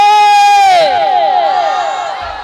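Big crowd shouting in unison answers a Nara-e-Takbir chant at a Bangla religious sermon gathering, a loud, sustained, tonal roar that swells and then trails off into a softer echoing tail.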